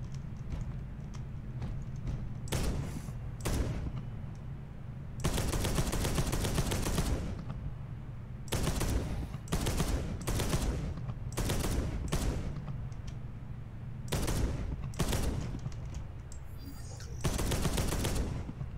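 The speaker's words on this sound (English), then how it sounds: "Destroy the targets with your storm bolter." Storm bolter fire in the Space Hulk: Deathwing tutorial, with loud bursts of rapid gunfire repeating at irregular intervals against a steady low hum.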